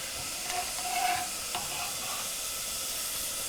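Carrots sizzle and fry in a saucepan with a steady, close hiss, briefly stirred, and no talking over it.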